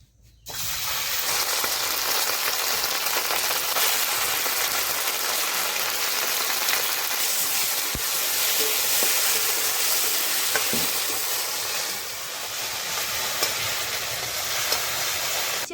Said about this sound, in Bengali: এখন হালকা একটু ভেজে নেব